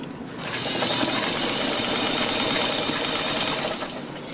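A vintage Sears Kenmore Model 1120 sewing machine stitches at a steady whirring, rattling pace for about three seconds, starting up and winding down, heard close and loud.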